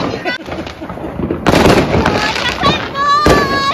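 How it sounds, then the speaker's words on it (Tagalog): Neighbors' New Year's Eve fireworks bursting and crackling continuously nearby, loud and dense with sharp pops, while people exclaim and talk over them. "Ang ganda ng mga paputok na kapitbahay namin."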